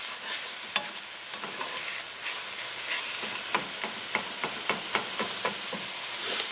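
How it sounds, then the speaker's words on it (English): A meat mixture seasoned with Worcestershire sauce sautés in a pan for Mexican lasagna, a steady sizzle broken by irregular scraping strokes of a utensil against the pan. "I'm going to saute this up"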